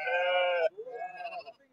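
A young lamb at the Kadiri sheep market bleats twice in close succession, the first call long and strident, the second shorter and wavering, both near and clear.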